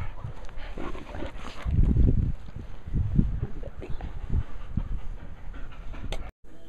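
Dog panting heavily and rapidly at close range, a steady breathy huffing with occasional whimpers and low thumps, loud and continuous with no talk.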